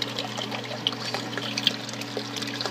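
Float valve releasing water into a hydroponics backup reservoir, a soft continuous trickle and splash over a steady low pump hum, faint and close.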